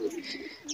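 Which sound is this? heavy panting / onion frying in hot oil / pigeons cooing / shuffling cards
pigeons cooing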